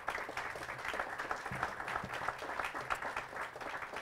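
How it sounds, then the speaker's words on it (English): Steady applause from an audience at an officials' event unveiling plans for Riverfront East, even and moderately distant, with no talking over it. "Please join me in giving these partners a round of applause."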